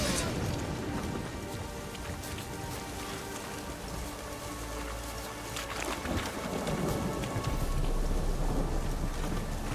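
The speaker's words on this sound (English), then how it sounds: "A storm, damn it." In The Witcher 3, a thunderstorm with steady heavy rain hisses across the scene, while a deep rumble of thunder swells in the second half and grows louder toward the end.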